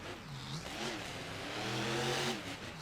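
Matthew Hood's Bulldozer monster truck rolls onto a freestyle track at a Toronto monster truck show, its engine revving in rising and falling surges that build louder before easing off.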